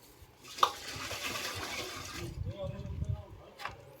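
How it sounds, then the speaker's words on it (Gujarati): Cow urine, ten litres, poured into a drum of water for a natural-farming preparation: a steady gushing splash runs for about two seconds, then gives way to quieter sloshing and faint background voices. "પછી આપણે 10 લીટર ગૌમૂત્ર લેવાનું. આ 10 લીટર ગૌમૂત્ર."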